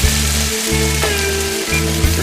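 Home fries frying in a pan give a steady, close sizzle that runs unbroken throughout with no talk.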